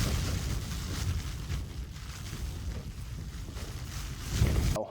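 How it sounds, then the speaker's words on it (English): Strong wind gusting against a tent during a rainy night of wild camping in Wales, a steady loud roar and buffeting flutter that swells toward the end. "And this wind, it was throughout the entire night as well."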